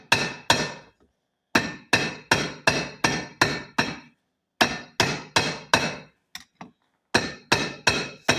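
Sharp hammer strikes land in quick bursts of several blows each, separated by short pauses, loud and close with a ringing metallic edge.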